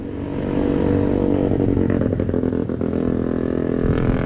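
Yamaha RX King two-stroke motorcycle engine revving loudly and close, a continuous rough clattering drone with rising bursts of throttle.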